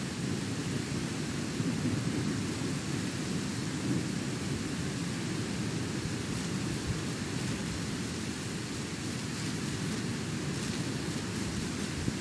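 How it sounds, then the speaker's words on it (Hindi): Rain and thunder in the Ranch Simulator video game, a dense, steady roar of rainfall with a low rumbling thunder bed that holds constant and loud throughout, with no talking. "कल रात से कंटिन्यू बारिश हो रही है यहाँ पे"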